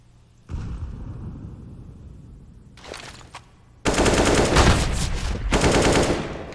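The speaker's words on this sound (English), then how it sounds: "The shots going down in mid" Counter-Strike gunfire on the Mirage map erupts in mid: a first volley, a short burst near the middle, then a loud sustained exchange of rapid automatic shots to the end.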